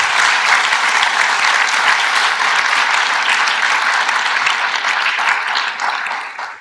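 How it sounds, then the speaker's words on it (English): A sustained round of audience applause at the 2016 Design as Strategy Forum closing session: loud, thick clapping from a packed room that stays steady before tapering off at the end. "I want to take the opportunity for you to give Maureen another big round of applause."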